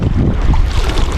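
A snorkel being cleared: a hard puff of breath forces water out of the tube as one steady, rushing, splashy blast of air lasting about a second, loud and close.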